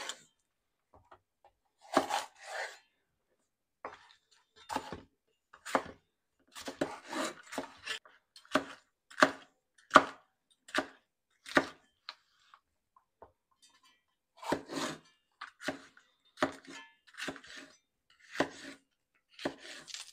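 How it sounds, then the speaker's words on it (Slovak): Bell peppers being cut into fairly large pieces with a knife, a run of sharp separate chops on a board that comes in short bursts with brief pauses between them, close and fairly quiet, with no talking. "Papriky nakrájam na trochu väčšie kúsky."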